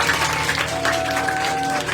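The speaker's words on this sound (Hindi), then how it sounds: "एक बार जोर से ताली बजाओ" A sermon audience bursts into dense, continuous applause, loud and close throughout the brief moment.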